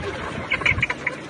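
Layer hens on a poultry farm of about 1,100 birds give brief, scattered clucks and squawks over a steady background hum, fairly faint and short.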